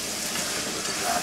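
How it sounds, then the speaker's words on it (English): Food sautéing in a pan, a dense, continuous sizzle with a soft hissing wash and slight swells, close and moderately loud, no speech. "So we're gonna let it saute in there for maybe 5 minutes."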